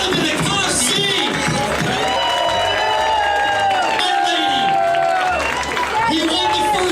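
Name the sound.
audience applause and booing at the Orlando Improv comedy club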